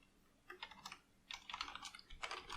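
Bursts of rapid keystrokes on a computer keyboard while code is typed for a Unity game, close and fairly quiet, in three short clusters with brief pauses between them.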